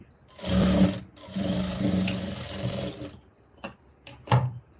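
A sewing machine runs in two steady bursts while stitching a blouse, its motor whirring close and loud. Short clicks and taps follow after it stops, with no talking.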